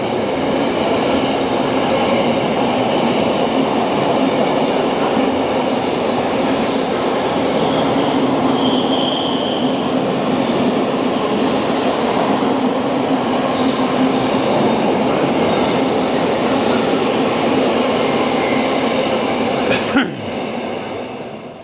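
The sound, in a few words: train passing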